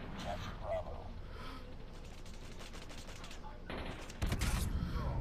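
Gunfire in the Call of Duty Mobile game during a clan wars Domination match, rapid automatic bursts mixed with game sounds and a voice speaking, ending in a louder burst of shots.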